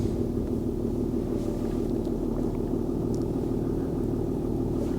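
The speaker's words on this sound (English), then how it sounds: "Engine's running at idle." A Mercedes car engine idles in a steady, even low rumble, close by and unchanging for the whole stretch, with no voices over it.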